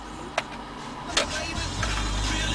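The motorized cassette mechanism of a BMW E38/E39 navigation screen gives two sharp clicks, then starts a steady low mechanical whir as it begins moving.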